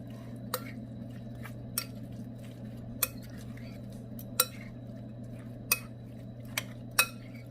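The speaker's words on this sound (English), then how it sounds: "and some chopped red onions. Stir it up." Chopped red onions stirred in a pan while garlic potatoes and barbecue chicken cook, giving sharp utensil clinks and scrapes at irregular intervals over a steady low sizzling hum, close and fairly quiet.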